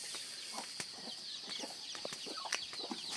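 Chickens clucking in a rural village yard, several short, irregular clucks and squawks close by, with a faint flap of wings over quiet background, no voices.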